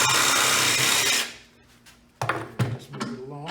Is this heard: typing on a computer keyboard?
no